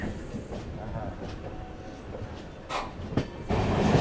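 The Secunderabad–Repalle Express rumbles along the rails through a curve with rhythmic clacks and a few sharp metallic bangs, getting louder toward the end; no speech.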